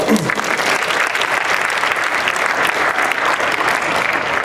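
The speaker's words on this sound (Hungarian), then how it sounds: "egy nagy tapsot neki is" Warm, dense applause from a crowd at a tennis club's Christmas party, honouring a coach. The clapping is steady and full for several seconds, with little talk over it.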